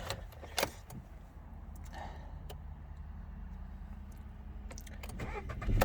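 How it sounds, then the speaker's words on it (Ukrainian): Skoda Fabia with a five-speed manual gearbox and 102,000 km being started, a few sharp clicks and a crank followed by a steady low idle rumble, fairly quiet and close, with no talking. "Автомобіль заводиться без проблем"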